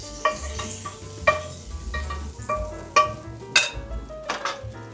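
King prawns stir-frying over strong heat in a garlic fried rice pan, with repeated scraping and clinking of a utensil against the pan over a steady sizzle, a few sharp louder strikes standing out.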